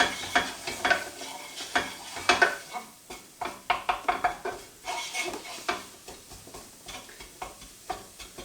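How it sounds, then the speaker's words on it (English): A spoon scrapes and stirs spice paste for a vegetable curry around a frying pan, with clinks against the metal over a soft sizzle, close and irregular. "And again, this can go straight into the frying pan. And we'll give this a good stir around."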